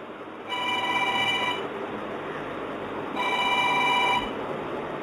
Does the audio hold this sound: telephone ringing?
yes